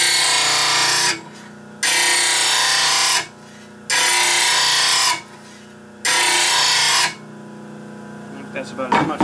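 A new grinder tool cuts a bevel in four loud, steady bursts of roughly a second or more each, separated by short pauses, with a low motor hum running throughout.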